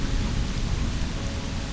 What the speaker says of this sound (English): we've got a waterfall just coming off this cliff just there.